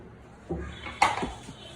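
A wok set down on a stove before oil goes in, giving a couple of soft metallic knocks and a brief clatter in a quiet kitchen.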